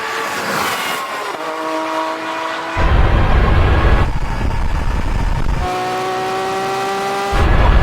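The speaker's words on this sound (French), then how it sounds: "nous avons toujours un léger patinage des roues" Drag-race launch of a Porsche 911 GT3 RS, a V12 Lamborghini and a Tesla, with engines roaring and rising through gears in loud, close bursts and rumbling low-end surges as the cars accelerate with slight wheelspin.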